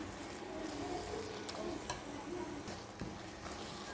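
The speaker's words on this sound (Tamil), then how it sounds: "இப்போ நல்லா கலந்து விட்டுக்கலாம்" Sugar and coconut burfi mixture with cardamom powder being stirred in a pan, a steady soft scraping and sizzling with occasional sharper spoon knocks against the metal, close and continuous.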